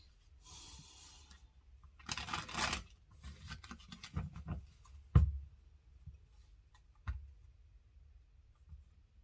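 Soft papery shuffling and riffling of tarot cards, with a few sharp taps and clicks of cards, close by and quiet, no talking.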